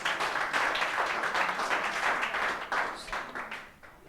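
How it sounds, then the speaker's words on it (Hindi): Students in a physics classroom clap together as a group, a dense, steady patter of many hands lasting a few seconds before tapering off, with no talk over it. "ताली बजाइए।"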